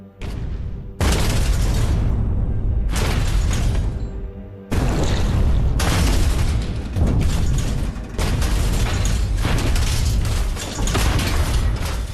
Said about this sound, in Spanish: La primera de las 4 cargas de profundidad explota delante de la popa del Silver Sides.